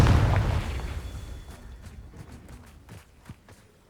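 A Confringo spell explosion in the Hogwarts Legacy video game, a booming blast at the start that quickly decays into a faint rumble, followed by light scattered impacts and footstep-like taps.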